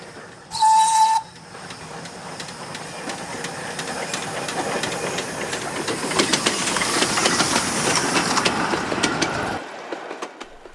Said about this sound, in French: on voit circuler, ici et là, entre le Crotoy, Noyelles, Saint-Valery et Cailleux, les plus belles machines à vapeur d'Europe